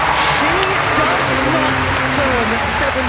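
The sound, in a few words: applause at gymnastics competition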